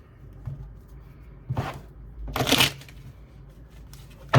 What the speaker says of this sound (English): shuffle this up one more time